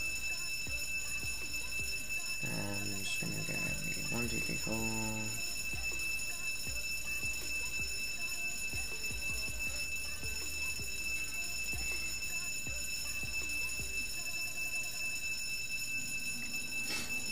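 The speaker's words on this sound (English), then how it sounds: "I'll set off the alarms." The vault alarms in the Roblox Jailbreak video game ring as a steady, shrill electronic tone throughout, alongside other game sounds, while a player speaks over them.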